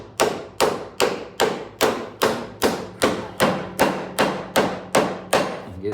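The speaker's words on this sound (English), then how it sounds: "And then just tap it with your rubber hammer." A rubber hammer taps a bushing into place on a lawn mower's steering, landing about a dozen evenly spaced, dull, thudding blows at a steady rhythm, close and clear with no talking.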